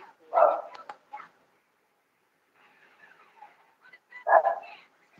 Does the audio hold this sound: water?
no